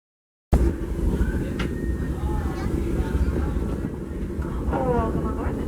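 Disneyland Railroad steam train led by the Fred Gurley locomotive, a continuous low rumble of the rolling train that starts abruptly, with faint whistle-like tones and background voices.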